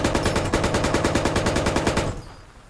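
Rapid automatic gunfire in the video game Squad, a fast even burst of close, loud shots that stops abruptly near the end.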